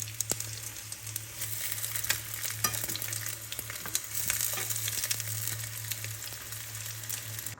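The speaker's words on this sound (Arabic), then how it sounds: "دروك اون فوا الزيت تاعي سخن لي بيان دروك غادي نقليهم" Chicken rolls fry in hot oil in a pan, a continuous close sizzle with crackles and occasional clicks from turning them, over a steady low hum, without talking.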